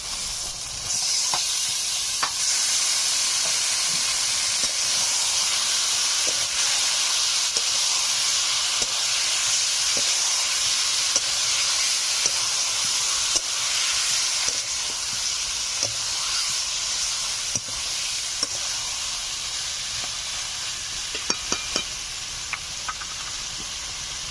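Marinated chicken pieces frying with spices in a pan for a village-style Bengali chicken curry, a loud continuous sizzle and hiss with occasional faint clicks of stirring throughout.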